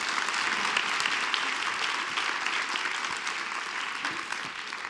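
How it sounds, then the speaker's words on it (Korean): Sustained audience applause at a church music gathering, a dense, even patter of many hands clapping that stays loud for about five seconds and eases slightly toward the end. "다시 한번 박수 부탁드릴게요"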